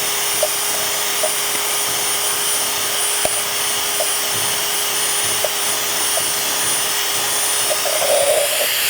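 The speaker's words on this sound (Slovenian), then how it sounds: "dam to v vrtalni stroj, vstavim noter in tako brusim" A drill sands the inside of an aluminium drink can, a loud, steady whirring grind that runs continuously with small clicks and scrapes, and no talk over it.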